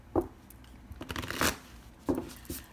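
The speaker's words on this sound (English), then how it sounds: "So I'm going to shuffle 2 more times." Tarot cards shuffled by hand in a few short riffling bursts, close and crisp, separated by brief pauses with no talking over them.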